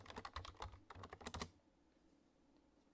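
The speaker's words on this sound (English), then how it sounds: "and type my password" Typing a password on a computer keyboard, a quick run of about a dozen crisp key clicks close up for a second and a half, then quiet room tone.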